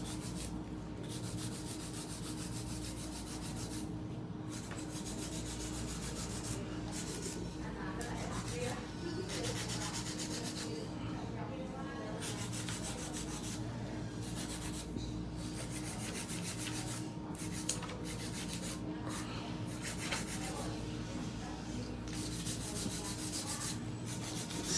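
A nail file works steadily on acrylic nails with continuous close rasping and rubbing under a constant background hum, while quiet speech can be heard in places.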